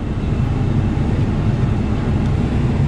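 A Ram 1500 EcoDiesel engine rises to a steady, loud, low rumble during a forced DPF regeneration, with a constant drone throughout and no voices.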